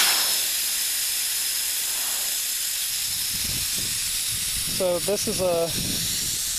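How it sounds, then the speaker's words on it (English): Steady air hiss from a tire valve stem with the core removed, constant and fairly loud throughout, with someone speaking briefly over it near the end. "we just remove the core out of the valve stem"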